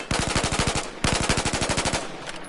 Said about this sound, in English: I'm going to tap the trigger as fast as I can to see the recoil